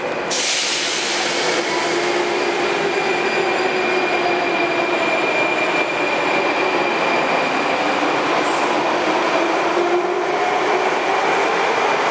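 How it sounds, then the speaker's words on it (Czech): A Prague metro train rolls into the station with a steady, loud rumble and a thin, high wheel squeal running through it, with no voices. "Mně jede metro."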